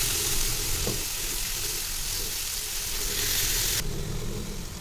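Marinated chicken fries in a pan for a semi-gravy, giving a loud, steady sizzle and crackle up close that runs without a break and shifts slightly in tone near the end.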